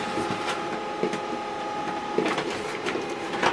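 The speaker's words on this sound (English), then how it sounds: "HP LaserJet Pro M118DW is ready." An HP LaserJet Pro M118DW laser printer runs during setup, giving off a steady mechanical whir and hum with faint clicks and ticks at intervals. It sounds close and continuous, with no voices.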